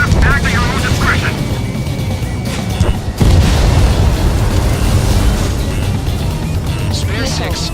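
Missiles streak and explode in the Ace Combat 7 jet fighter game, loud rumbling booms and roaring jet noise filling the scene, with a sharp blast near the middle and radio voices talking over the chaos.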